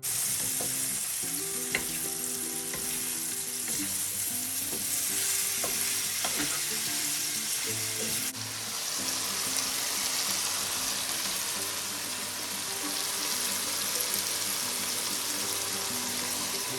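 Chicken pieces laid out evenly in a hot pan for a pineapple teriyaki bowl hiss in a steady, loud sizzle. The frying holds throughout, with a few soft clinks and scrapes and a faint low hum underneath.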